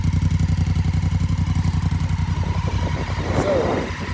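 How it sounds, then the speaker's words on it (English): A motorcycle engine with stock exhaust thumps along in a rapid, steady pulse at idle in neutral, then revs briefly with a rising burst near the end. "here's an exhaust note as well"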